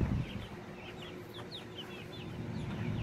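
Dominique chickens cluck softly and repeatedly inside a coop, their short calls scattered over a noisy, rumbling background.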